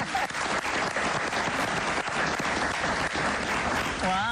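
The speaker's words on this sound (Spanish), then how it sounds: "un aplauso, sí" A studio audience at a Spanish-language interview show gives loud, sustained applause with a dense, even clatter of hands, and a voice comes in near the end.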